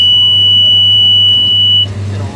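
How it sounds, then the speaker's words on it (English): A John Deere 459 round baler's final bale-size buzzer sounds as a steady high electronic tone over the low drone of a John Deere 6330 tractor, then cuts off sharply near the end. "we'll get our final buzzer here at 60."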